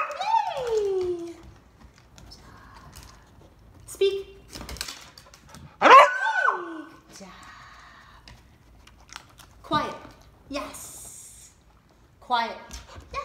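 Indoor dog barking on a speak command, a few short sharp barks spread between stretches of a voice giving commands, close and fairly loud against quiet pauses.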